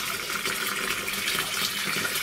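Watering cans being emptied in a garden plot, a steady splashing, gushing pour of water that runs continuously for the whole two seconds.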